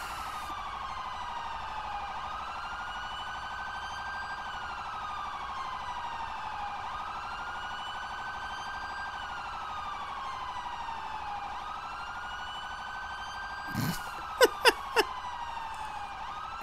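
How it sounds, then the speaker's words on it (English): Ambulance siren wailing continuously in the game GTA5 while responding with lights and siren, its rising and falling tone cycling steadily at moderate level, with a few sharp clicks near the end. "An ambulance in route responding code 3."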